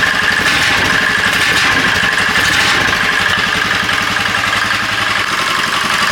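A golf cart engine with a custom exhaust idles steadily nearby with an even, pulsing putter and a faint mechanical whine, running continuously without revving.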